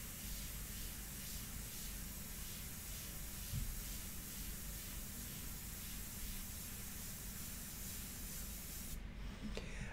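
An airbrush spraying India ink onto paper for a portrait, a constant close hiss of air held almost unbroken, then cutting off abruptly near the end.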